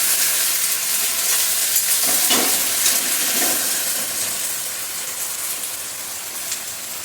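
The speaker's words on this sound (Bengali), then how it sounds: "হলুদ। ভালো করে কষাবো।" Spices, salt and turmeric sautéing for fish curry give a dense, crackling sizzle up close that eases slightly toward the end, with faint stirring.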